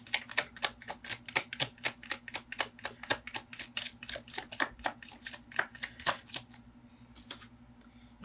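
Tarot cards are shuffled in a quick, even train of crisp snapping flicks, close and distinct, over a steady low hum before tapering off near the end, with no speech.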